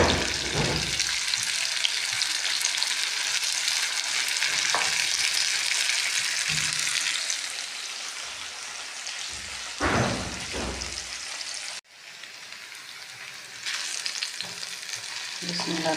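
Onions browning in a pan with chilli and tomato added, sizzling steadily and loudly throughout, with intermittent scraping stirs and a brief lull near the end before the frying resumes.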